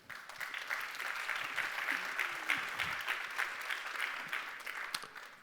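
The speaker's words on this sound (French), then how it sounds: "On vous applaudit." Audience clapping at an innovation award ceremony, steady moderate applause from a room of people, with a few faint voices mixed in beneath it.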